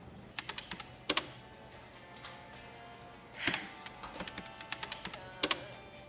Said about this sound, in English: This register's kind of quirky. The keys tend to stick.